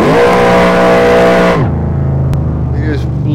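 Car engine in a racing video game running at 100% turbo, revving hard and loud then dropping pitch as it shifts into third gear, with a steady drone continuing afterward.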